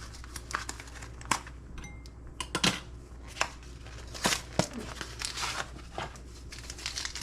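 A plastic packet of green apple jello being torn open, with irregular crinkles, sharp rips and small rustles close by, scattered over several seconds with no talk.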